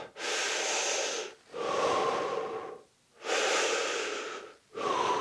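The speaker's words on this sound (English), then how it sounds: "On chest breathing, instead of going this way, I'm going up." Close, loud chest breathing during a demonstration for absorbing body blows: four long, airy breaths alternate with short pauses in a steady in-and-out rhythm, with no talking.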